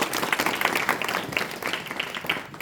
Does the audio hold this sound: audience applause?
yes